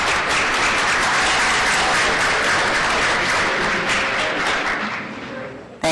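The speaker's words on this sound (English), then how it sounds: "Give them a round of applause for working on it." Sustained audience applause fills the room at a community breakfast event, a dense steady wash of many hands clapping at full strength throughout before tapering slightly at the end.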